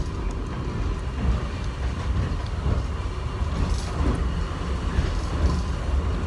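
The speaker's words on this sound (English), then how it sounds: "the subway train is always fun here in the airport because it's fast" An airport subway train moving at speed gives a continuous rumbling roar with rattling wheel and car noise, steady and enveloping as heard from inside the car.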